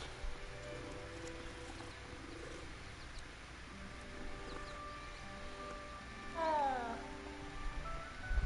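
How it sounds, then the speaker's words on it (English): A cat meows once, a short rising-and-falling cry in the Hogwarts Legacy video game, over a steady rain-like ambient hiss and faint game sounds. "Is that a different cat? It is a different cat."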